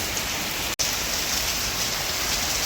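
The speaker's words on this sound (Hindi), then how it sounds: "जोरदार बारिश दोस्तों, खूब तेज, उधर धूप निकली है और इधर बारिश हो रही" Heavy rain pours steadily in daylight outside a plant nursery, a dense, even roar of drops hitting the road and surfaces, loud and continuous with one very brief dropout.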